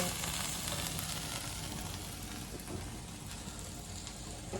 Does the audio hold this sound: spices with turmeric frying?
yes